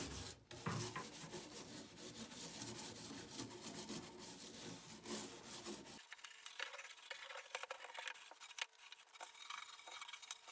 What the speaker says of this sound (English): you are going to brush any detail, grooves, crevices that you can see on your piece